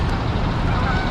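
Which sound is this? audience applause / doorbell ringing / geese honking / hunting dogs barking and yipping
geese honking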